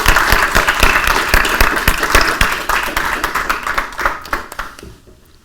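An audience at an applied AI lunch talk claps loudly and vigorously for the speakers, individual claps crisp and close, the applause thinning and fading out in the final second.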